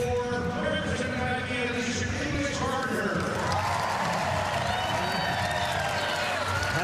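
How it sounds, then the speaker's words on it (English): Stadium crowd roaring and applauding throughout a women's 100m race at a University of Oregon track, a loud sustained wash of cheers with a commentator talking over it. "Listen to the crowd."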